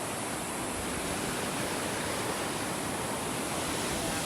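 Steady roar of ocean surf breaking on a beach at Refugio Gandoca Manzanillo in Manzanillo, Limón, Costa Rica, a dense, continuous wash of waves with no pauses, heard alone.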